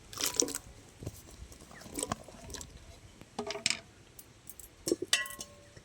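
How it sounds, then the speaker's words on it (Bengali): Chopped raw green mango pieces tipped into a pot of water for jam, giving a few close, sharp splashes and clinks of fruit hitting water and metal in scattered bursts. "এবারে কেটে রাখা আমটা আমি দিয়ে দিচ্ছি।"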